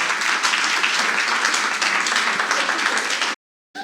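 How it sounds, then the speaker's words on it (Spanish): A church congregation claps in a dense, steady burst of applause that stops abruptly near the end. "Dale un aplauso al Rey si puede, iglesia"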